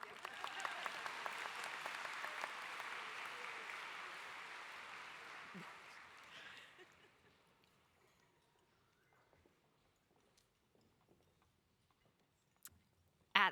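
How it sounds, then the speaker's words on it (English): Applause at a high school graduation ceremony, a broad wash of clapping that holds steady for several seconds, then fades out into a quiet room with a few faint knocks and a sharp sound at the end. "Another round of applause"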